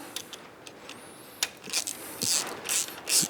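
Ratchet clicks in short bursts while a nut is tightened onto the exhaust header of a 2024 Triumph motorcycle, with irregular close metallic clicking and a few light knocks and handling noises in a quiet workshop.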